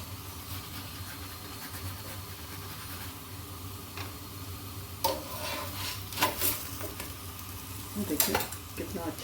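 A gobhi paratha frying in desi ghee on a pan, a steady close sizzle with occasional scraping and clinks of a utensil turning it and spreading the ghee.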